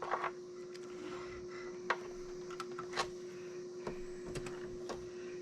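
Sewing machine stitching a seam in fabric for a bowl cozy, a steady faint motor hum with soft irregular clicks and taps, heard alone at low level.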